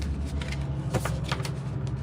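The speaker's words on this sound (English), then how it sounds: "I'm gonna shuffle one more time." A tarot card deck is shuffled up close, a steady papery riffle and slide of cards running continuously for a couple of seconds with no talk over it.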